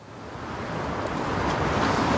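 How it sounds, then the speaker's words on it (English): Wind and choppy water on the River Tay at Dundee during a November 2013 Scottish storm, a steady broad rushing roar that slowly builds in strength with no voices. "a rather windswept River Tay"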